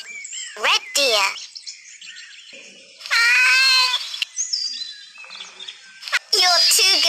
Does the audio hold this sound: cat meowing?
yes